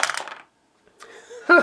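Three dice rolled during a board game clatter briefly on a hard surface, a quick sharp burst after a short pause, preceded by someone talking.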